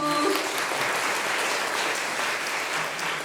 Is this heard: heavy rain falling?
no